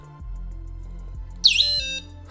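A cheap, loud electric scooter alarm with an on/off switch, mounted on a scooter, starts with a short tone, then warbles into a piercing high-pitched wail for about half a second before cutting off.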